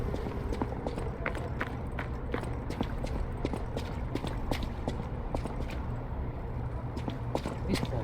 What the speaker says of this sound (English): These poor horses.